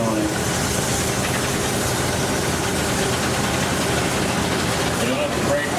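A 1910 30 horsepower Huber engine runs steadily at a vintage farm show, a low, continuous chugging drone that holds even throughout, with crowd ambience around it.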